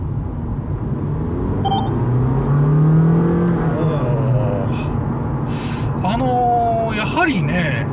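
A Honda Fit Luxe hybrid pulls away on electric motor power, a smooth rising whine building from low speed inside the cabin, with a driver talking over it and a brief beep.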